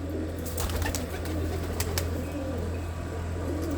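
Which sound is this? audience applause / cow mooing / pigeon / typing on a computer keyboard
pigeon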